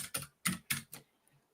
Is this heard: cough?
no